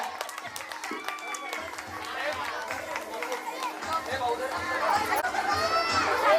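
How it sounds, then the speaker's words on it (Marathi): Children and adults at a Shivjayanti dance competition chatter and shout excitedly, with scattered clapping building toward the end, lively and crowded. "टाळ्या टाळ्या."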